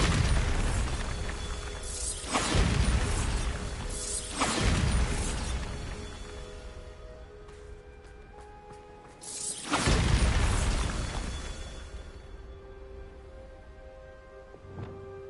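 Bombarda blasting spells go off in Hogwarts Legacy on PS5, three heavy booming explosions with rumbling tails spaced a few seconds apart, followed by fainter rattling and settling debris.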